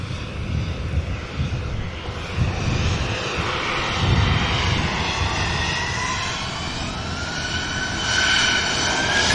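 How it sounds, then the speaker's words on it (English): A Hainan Airlines Airbus A330-300 departs Manchester Airport, its jet engines giving a loud continuous roar with rising, shifting whine tones that strengthen toward the end, heard alone without voices. "Following out the Indigo is going to be the Hainan 330."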